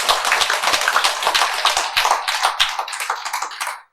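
Audience at a Buddhist lecture breaks into a burst of dense, close hand clapping that continues unevenly for several seconds before stopping abruptly.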